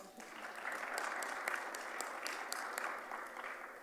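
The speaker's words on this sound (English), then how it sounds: "You can clap for that." An audience at a state convention in Minnesota claps for a US senator, a steady, fairly loud wash of many hands lasting the whole stretch with a few sharper individual claps standing out.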